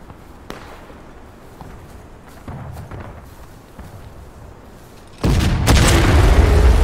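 A Civil War reenactment artillery battery fires: quiet outdoor ambience with scattered faint thumps, then a loud, sudden cannon boom near the end that rumbles on.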